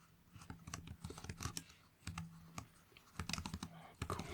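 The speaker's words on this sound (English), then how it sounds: "Let me just type this up quick." Fingers tap quickly across a computer keyboard up close in a quiet room, a busy stream of soft clicks in short bursts with brief pauses.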